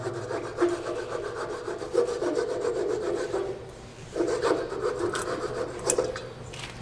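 A hand saw rasps back and forth through a wood-turning piece in steady close strokes, with a brief pause partway through before sawing resumes.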